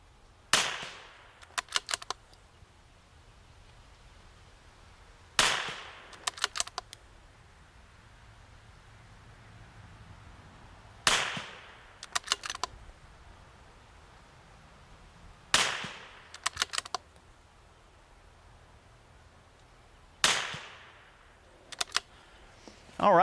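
Rimfire precision rifle fired at a target from a tank trap position, five sharp cracks spaced about five seconds apart, each followed by a short ringing tail and faint clicks of the bolt cycling, in an otherwise quiet outdoor setting.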